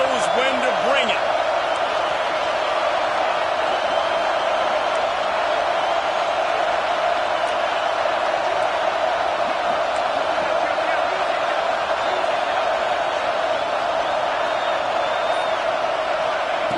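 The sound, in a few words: football stadium crowd cheering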